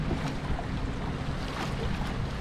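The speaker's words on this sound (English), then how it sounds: "It's hard to, maintain the kayak and fight the waves at the same time." Steady choppy water slapping against a kayak's hull out on open water near a pier, a continuous close wash of waves and wind with no talk.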